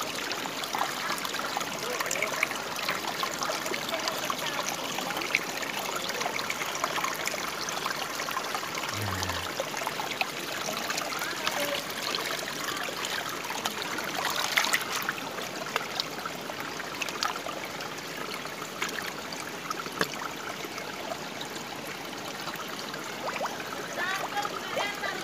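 Water trickles and runs steadily from a blocked hose in a rural outdoor setting, a continuous close wash of flow with faint splashes throughout.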